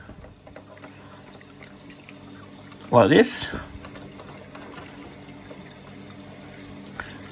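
Water from aquarium plumbing pours into a fish tank, a short, loud splashing gush lasting under a second amid quiet room tone, with a voice speaking briefly.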